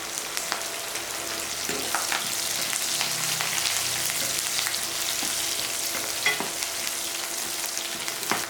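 Onions fry with dried red chilies and curry leaves in a pan, a steady crackling sizzle broken by scraping stirs and occasional clinks, close and continuous without talk.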